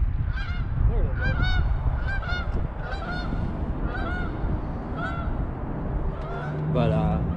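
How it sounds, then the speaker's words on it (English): A flock of geese honks loudly and repeatedly by the water at sunset, the calls close and overlapping in a continuous, excited chorus over a low rumbling background. "We got some geese behind me going crazy."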